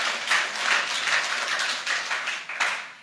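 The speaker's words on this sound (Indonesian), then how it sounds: "berikan tepuk tangan buat Tuhan kita yang dahsyat" Audience applause at a church sermon, steady clapping from a crowd sustained across the whole stretch with slight swells, fairly close and with no talking over it.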